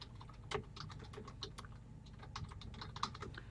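Steady, close keyboard typing on a computer while HTML code is entered, with quick irregular key clicks running throughout and a few sharper taps along the way.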